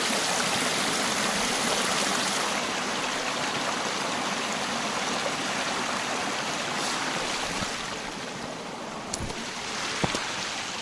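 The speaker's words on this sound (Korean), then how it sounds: "아, 그 물소리." A mountain stream at a free campsite in Gangwon Province rushes steadily and close by, a dense, unbroken wash of flowing water with no voices over it.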